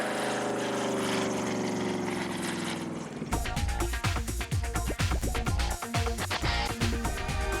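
A Mustang replica propeller aircraft flies past. A steady engine drone in the first part gives way to a louder, rougher, pulsing engine roar close by, with no talk.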